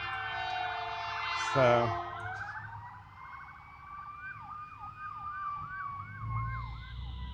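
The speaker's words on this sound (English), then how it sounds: "it sounds like fire department, ambulance" Ambulance siren wailing and sweeping in a wavering pitch as it passes along a street, fairly distant and steady, with a brief spoken word near the start and light traffic rumble beneath.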